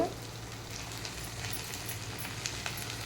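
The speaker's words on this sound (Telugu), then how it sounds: "కేజీ బెండకాయలు ఫ్రై చేస్తున్నాను" A kilogram of okra (bhindi) frying in a pan, a steady soft sizzle with faint stirring clicks and no talking.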